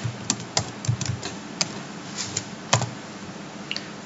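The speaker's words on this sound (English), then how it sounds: "you have to type the password of your Gmail account" Computer keyboard keys tapped in short irregular bursts while entering a Gmail account password, crisp close clicks with pauses between them.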